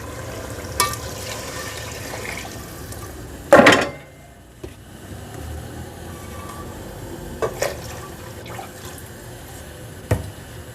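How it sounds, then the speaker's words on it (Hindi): Water is poured into a cooking pot for pea pulao, one short, loud splashing gush followed by quiet room tone and a few faint clicks and knocks. "मैं इसमें 7 गिलास पानी डालूँगी"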